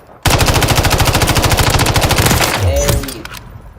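Rapid automatic fire from a Farah 83 rifle in Call of Duty, a loud, steady burst of close shots lasting over two seconds, then a few trailing clicks and a fading tail.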